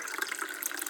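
Mandarin orange sparkling water is poured into a mug, giving a steady, bright hissing splash with fizzy crackle, close and continuous throughout.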